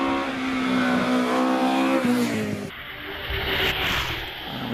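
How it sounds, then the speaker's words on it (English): Race car climbing the Prescott hill climb course, engine loud and close, revving hard with a rising then shifting pitch and tyre noise as it powers around a bend and on up. "Meanwhile, Bruce Atkinson makes his way around Pardon and on up"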